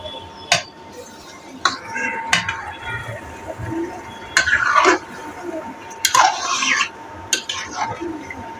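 Chicken curry stirred in a pot with a metal spoon, giving bursts of scraping and clanking against the pot's sides. The bursts recur unevenly over a soft, continuous kitchen background.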